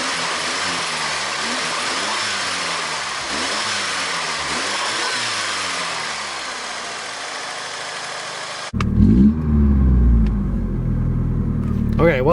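A 1989 Ford Mustang engine starting for the first time in years, running loud and steady with rhythmic low pulsing, then surging louder near the end; people talk over it.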